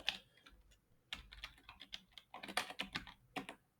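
Fingers type on a computer keyboard, quick uneven bursts of close, crisp key clicks with short gaps, entering a short name.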